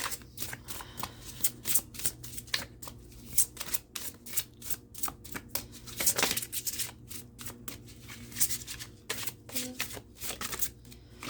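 Moonology oracle cards being shuffled by hand, a quick rhythmic riffle of repeated papery flicks and slaps going on steadily and close for over ten seconds, without any talking.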